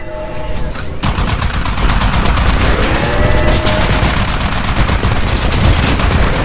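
Sustained automatic turret fire in Titanfall, loud and dense with rapid overlapping shots and booms in a continuous battle din that kicks in after a brief quieter moment at the start.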